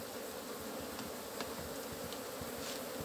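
Apis honey bees buzz around combs being handled, a dense continuous drone that is close and steady, with no one speaking.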